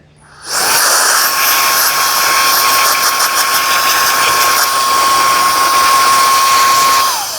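Loud, steady blast of compressed air blown through parts of a Shark IQ robot vacuum during cleaning and maintenance, a continuous hiss with a whine running unbroken for about seven seconds, alone with no talking.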